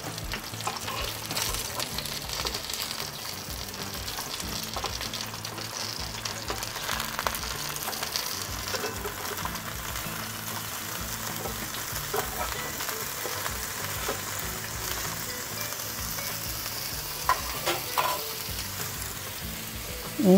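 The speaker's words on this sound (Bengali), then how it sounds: "এইভাবে সবগুলিকে উল্টে পাল্টে দিয়ে ভালোভাবে মুচমুচে করে ভেজে নেব।" Stuffed pointed gourd (kakrol) shallow-frying until crisp and being turned on both sides, a soft steady sizzle that goes on at length, with occasional light utensil taps and no talking.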